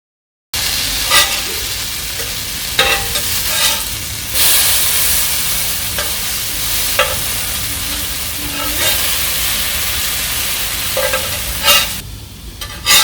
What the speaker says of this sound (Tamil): 30 மினிட்ஸ் மேரினேட் ஆனாலும் நம்ம வந்து தவாவில் வந்து சேர்த்து பொரிச்சு எடுத்துடலாம்